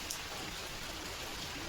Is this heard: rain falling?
yes